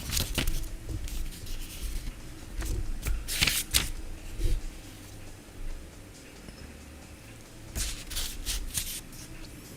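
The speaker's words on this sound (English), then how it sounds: "it kind of sounds good with a page turning sounding" Book pages turn with dry papery rustles and flicks in bursts, close and fairly quiet, with pauses of softer shuffling between them and no talk.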